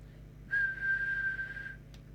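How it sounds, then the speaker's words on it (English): A person whistles one steady, sustained note into the microphone of a CRT Megapro UK mobile CB radio during service adjustments, held for over a second, with a faint low hum behind it and no talking. "So if I whistle"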